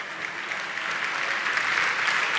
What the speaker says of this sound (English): A huge applause to Hasnain Kazim